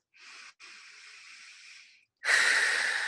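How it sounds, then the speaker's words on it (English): A deep inhalation drawn through the nose as part of a guided breathing exercise, heard as a steady airy rush close to the mic with a brief pause, then a louder, fuller breath follows. "So taking a big breath in your nose"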